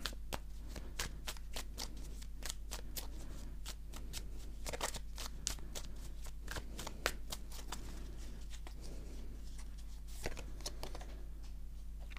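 Oracle cards are shuffled by hand in a steady stream of crisp, close riffling snaps, quiet and continuous, with a low hum underneath and no talking.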